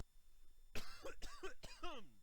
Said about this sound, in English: Had to cough off camera or off mic there.